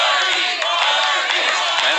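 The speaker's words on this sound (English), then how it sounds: "And listen to the crowd." A wrestling crowd at an FSW anniversary show roars and cheers during a women's match, a loud, sustained mass of voices with scattered shouts rising above it.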